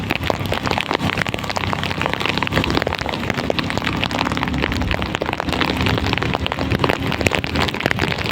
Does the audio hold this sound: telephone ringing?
no